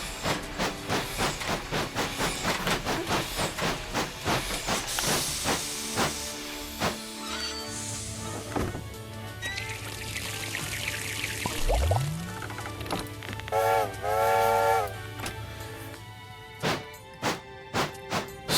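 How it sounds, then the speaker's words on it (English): A steam locomotive in a train video game takes on water: a steady hiss of steam and a rushing pour, with mechanical clanks, short tonal chirps and a rising whine, continuous and close. "let's top off with some water"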